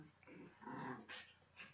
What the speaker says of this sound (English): my dog's going crazy over there